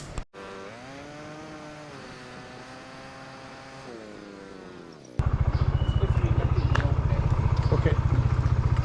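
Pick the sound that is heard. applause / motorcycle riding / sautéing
motorcycle riding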